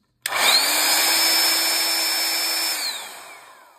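A battery-powered cordless drill runs close by in one sustained burst of about two and a half seconds, starting abruptly, holding a steady high whine, then slowing and fading as it spins down. No one speaks.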